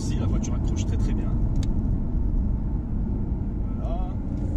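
A BMW i8 hybrid sports car drives on smooth tarmac, giving a constant low road rumble and engine drone that fills the clip.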